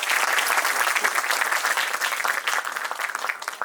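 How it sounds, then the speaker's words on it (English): Sustained audience applause greets the keynote speaker at a memorial oration, a dense, steady clapping from a large crowd that fills the whole stretch without letting up. "A big round of applause"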